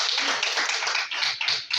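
Students clapping in a steady, dense patter of applause for a couple of seconds, fairly close and without talk.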